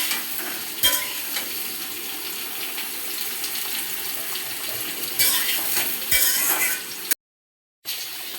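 Gulsha fish with raw papaya being stirred and fried in a pan, a steady close sizzle with watery hiss and a few scraping knocks of the spoon, briefly dropping to silence near the end.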